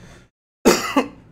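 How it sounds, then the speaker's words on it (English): A man who has been under the weather gives a single harsh cough, close and loud, after a moment of silence, with a throat-clearing rasp trailing off as it ends. "Pardon my cough."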